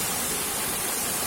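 A small stream waterfall rushes in a constant broadband hiss, steady and fairly close, with no other sounds.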